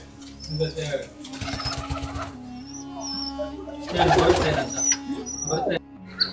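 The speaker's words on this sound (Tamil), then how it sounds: "இங்கே வந்து புறாக்கள் எல்லாம் வச்சுருக்குன்னு பார்க்கலாம்" Pigeons cooing at a cave-like shrine on a rocky hill temple ashram at Vallimalai, low repeated coos mixed with scattered bird calls and soft ambient noise, with a voice talking briefly in between.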